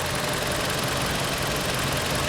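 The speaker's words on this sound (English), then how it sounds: "I started it up so you can actually hear the engine run" A 2015 Toyota Camry four-cylinder idling with the hood up, a steady, quiet, even hum with a faint ticking texture, heard up close and alone with no voices.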